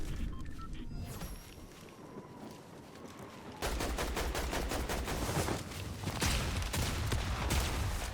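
Rapid bursts of automatic gunfire crackle in Fortnite Zero Build, loud and clustered in dense volleys, with a few scattered single shots in between and no talk over them.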